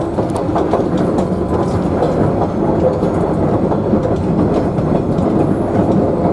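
The Savannahlander train rumbles steadily along the rails between Mt Surprise and Einasleigh with a continuous clattering roll, loud and close, with no voices.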